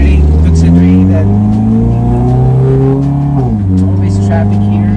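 A supercharged Mazda Miata MX5 ND with a Borla exhaust and custom headers runs loud and close, its engine tone steady then briefly dipping and climbing again, a continuous sustained drone with no talking.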